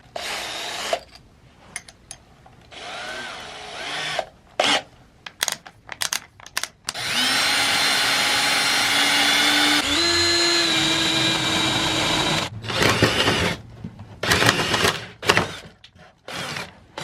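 A power drill bores a hole through the body of a box van: whirring bursts start and stop, then a long, loud, continuous grinding run of several seconds, followed by more short trigger pulls and clunks close by.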